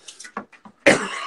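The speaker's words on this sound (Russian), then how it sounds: "Бля, у меня ужасный кашель." A man gives a few short throat-clearing sounds, then one harsh, loud cough close by.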